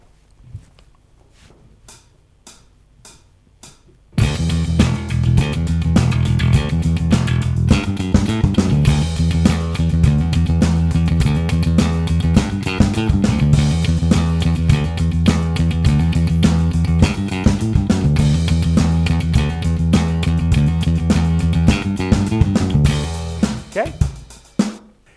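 Electric bass plays a galloping riff, heavy and continuous after a brief sparse intro of plucked notes, loud and steady to the end.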